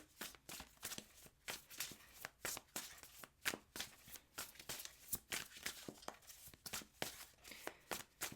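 Tarot cards being shuffled by hand, a quick run of crisp riffling bursts repeating in an even rhythm, close and fairly quiet, with no talking over it.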